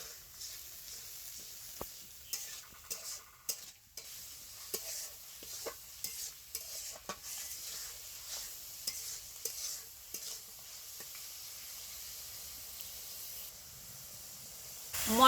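Cumin paste spices with a little water frying in a pan, a soft steady sizzle under repeated light scraping strokes of a spatula, quiet and close.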